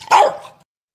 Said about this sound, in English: I was waiting for the bark.